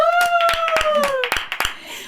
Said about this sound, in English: I love how you clap